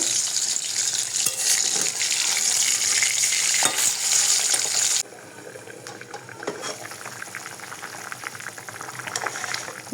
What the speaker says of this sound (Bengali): এখানে কিন্তু আমি মাছটা অলরেডি ভাজতে দিয়েছি কড়াইতে